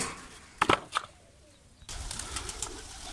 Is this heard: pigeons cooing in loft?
yes